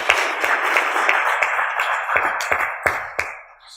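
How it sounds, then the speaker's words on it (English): A startup event audience gives its sponsors a round of applause. Dense clapping fills the room at first and then thins into a few loud, distinct final claps that fade to near quiet. "So big round of applause for our sponsors."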